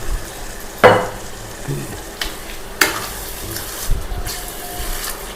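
Taro root (arbi) fries in a pan, with yogurt stirred in. A soft, steady sizzle runs throughout, broken by a few sharp clinks and scrapes from the pan.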